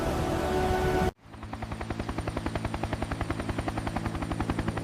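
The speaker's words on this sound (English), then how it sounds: "Look! A helicopter! A helicopter!" Helicopter rotor thumping steadily overhead after a loud burst cuts off, the rapid blade chop growing gradually louder and nearer, with no voices.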